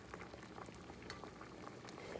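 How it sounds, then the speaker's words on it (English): Rice water boiling in a pot, a steady low bubbling simmer with small pops and gurgles, close and fairly quiet, with no voices. "I decided to boil it for an additional 10 minutes."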